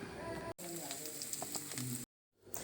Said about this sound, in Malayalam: ഇനി ഇതിലേക്ക് നമുക്ക് നമ്മൾ നേരത്തെ അരച്ച് വെച്ച ഇഞ്ചിയും കൂടെ ഇട്ട് നന്നായിട്ടൊന്ന് വറുത്തെടുക്കണം.